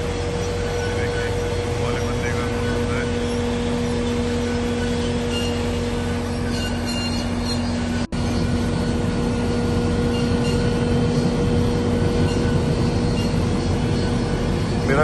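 A tractor trailer half loaded with potatoes is unloaded, with a steady mechanical drone and rumbling machinery hum filling the clip, a sharp knock midway, and no talk over the constant noise.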